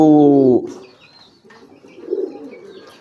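A single low, harmonic coo from a young pigeon rings out briefly at the start, followed by quieter faint rustling and soft background noise.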